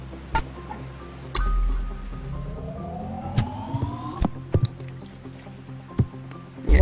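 In a mini golf video game, a golf ball drops into a water hazard, heard as a low watery splash and bubbling among scattered sharp clinks and taps, moderately close.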